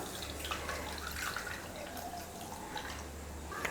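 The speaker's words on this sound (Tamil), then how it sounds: "லெமன் ஜூஸ் அடித்தாச்சு, அதையும் வடிகட்டிடலாம்." Lemon juice blended with green chilli and ginger being strained, a soft continuous trickle and drip of liquid running through a strainer, faint and steady throughout with a low hum beneath and no talking.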